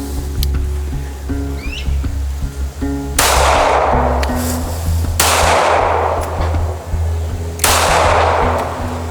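A Bodyguard 2.0 .380 pistol fires three loud, sharp shots a couple of seconds apart, each with a long ringing decay, over a steady low hum.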